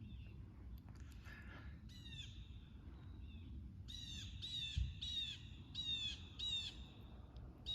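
Crows caw in a run of harsh, repeated calls over steady outdoor background noise beside a fishing spot, moderately loud and without speech.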